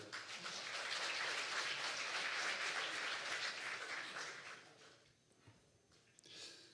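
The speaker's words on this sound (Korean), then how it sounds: "여러분 뜨거운 큰 박수 부탁드리겠습니다." Dense crowd applause at a symposium, loud and sustained for several seconds, then thinning out to scattered claps before fading.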